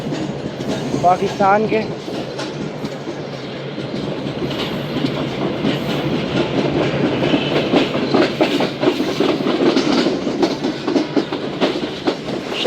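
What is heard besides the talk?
Shalimar Express train running on rails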